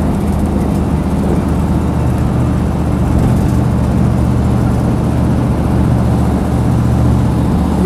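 A Land Rover 90 soft-top with a V8 engine and LT77 gearbox is being driven, giving a loud, steady low engine drone that fills the cabin throughout without a break.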